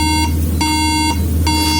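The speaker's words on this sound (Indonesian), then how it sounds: "perbedaan BIP 3 kali yang terjadi pada MacBook Air" A MacBook Air gives repeated electronic beeps at startup, three clear tonal pulses spaced about half a second apart over a constant low hum.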